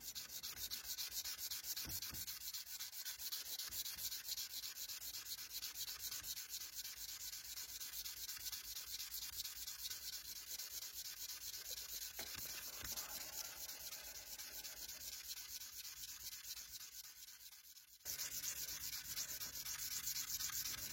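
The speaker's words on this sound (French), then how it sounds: "on va pouvoir passer au ponçage. Beaucoup de ponçage." Continuous abrasive sanding of a Damascus steel knife blade, a dense, even scraping rasp that holds steady for a long stretch, dipping and cutting briefly before resuming, close and alone without voices.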